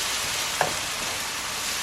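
Steady, dense sizzling of scallions and garlic frying in a hot pan, with a small clink partway through; no voices.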